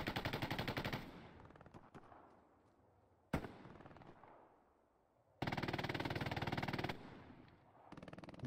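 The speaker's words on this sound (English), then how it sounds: "Just a braced MG and rocket again." Braced machine gun firing in the World War II shooter Hell Let Loose, with long loud automatic bursts separated by a sharp single blast and fading echoes, no talk.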